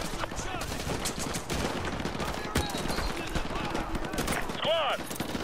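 Gunfire in the Call of Duty Modern Warfare 2 video game during a street battle: sustained bursts of rifle and machine-gun fire, with shouted voices under the shooting.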